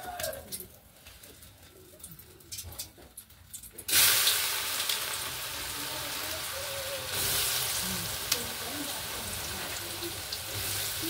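Food drops into hot oil in a pan and settles into a loud, steady sizzle up close, with quieter household sounds and birds cooing beforehand.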